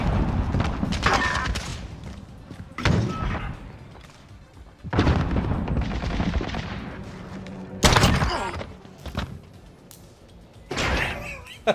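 Gunfire in the Call of Duty Modern Warfare video game during a Search and Destroy match, heard as several loud, sharp bursts spread across the clip, mixed with game sounds and a player talking.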